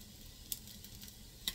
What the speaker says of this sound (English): While we are frying the salmon burgers